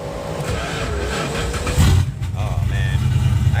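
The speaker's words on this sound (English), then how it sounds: "Start the car." A car engine cranks and catches about halfway through, then settles into a steady, close, rumbling idle for the remaining seconds.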